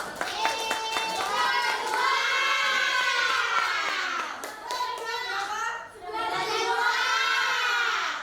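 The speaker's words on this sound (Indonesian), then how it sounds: "tepuk tangan buat kelas 11" Eleventh-grade students in a classroom respond with clapping and excited cheering, with children's voices shouting and chanting over the claps in a lively, sustained burst.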